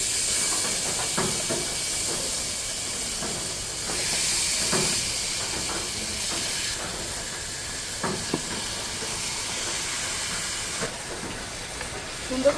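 Beef pieces for Bengali kala bhuna sizzle in a hot kadai, giving a steady, broad hiss that runs the whole time with a few sharp crackles and clinks and no speech.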